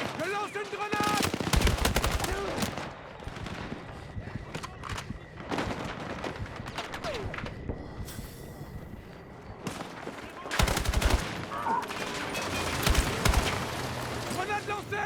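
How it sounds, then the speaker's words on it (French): Battlefield 6 battle with rapid bursts of automatic gunfire and scattered single shots, loud and close, continuing through a dense mix of combat noise and radio-style voices. "On ouvre le feu."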